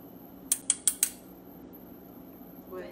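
Four quick, crisp metallic taps of a whisk against a bowl while beating eggs, evenly spaced and close, followed by quiet room tone.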